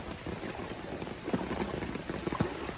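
Heavy rain from Cyclone Ditwah pours down outdoors in a dense, continuous hiss, with scattered louder splashes and drips close by.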